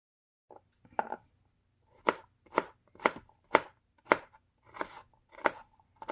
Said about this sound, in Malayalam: ഇപ്പം ചെറുതായിട്ട് കട്ട് ചെയ്യാം